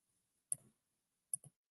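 Computer mouse clicking while searching records on a website: two separate quiet bursts of clicks, a single click followed by a quick double click after a short pause, alone without talk.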